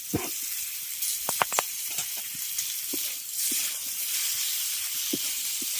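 Boiled potato goes into a pan of lightly fried peas and carrots, giving a soft steady hiss and sizzle broken by scattered ticks and pops, close and fairly quiet.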